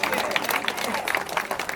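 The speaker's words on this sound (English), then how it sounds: "can we just give this brother a round of applause for what he's trying to do in this community?" An audience at a community awards ceremony applauds, dense overlapping clapping with some crowd noise and a voice mixed in, moderately loud and sustained across the moment.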